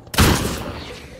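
Gunfire in a combat scene with soldiers pinned down by a sniper: a single sharp, loud report after a brief quiet, then a booming decay that fades over about a second.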